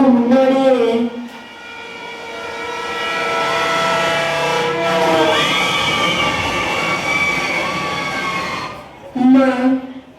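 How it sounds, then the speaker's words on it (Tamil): A super fast express train rushes past close by, a loud sustained roar with a sweeping pitch that swells and fades, horn-like blasts at the start and end, used as a sound effect at a school annual day play. "அதிவேக ரயில், சூப்பர் ஃபாஸ்ட் எக்ஸ்பிரஸ்"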